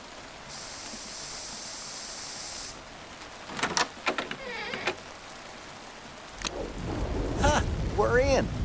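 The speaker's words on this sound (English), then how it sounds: "It's definitely jammed. Hopefully the spray will help." A lubricant spray is sprayed onto a jammed lock in a video game: a steady, close hiss of about two seconds, then brief clicks and game voices.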